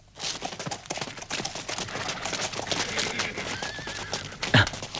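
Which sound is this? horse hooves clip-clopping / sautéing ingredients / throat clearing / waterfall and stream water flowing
horse hooves clip-clopping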